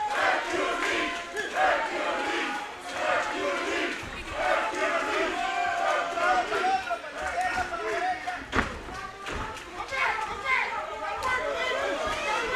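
A crowd roars and cheers at a boxing match in Baytown, a sustained, lively swell of many voices with shouts rising and falling, while a commentator talks over it.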